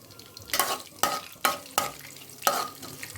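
Chana dal, urad dal and curry leaves frying in hot oil for a tempering, stirred in a pan: a quiet sizzle broken by four or five sharp scraping stirs at irregular intervals, close by, no voices.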